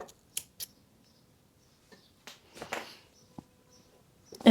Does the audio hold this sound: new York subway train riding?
no